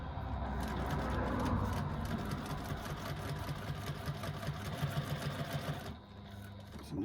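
A sewing machine stitches a zipper pocket lining with a scant quarter-inch seam, running steadily and fairly loud for about six seconds, its fast mechanical chatter continuous, before it slows and stops near the end.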